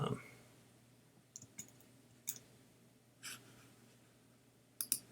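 Computer mouse clicking while working in Illustrator, a handful of soft separate clicks spread out over quiet room noise, with a faint breath at the start.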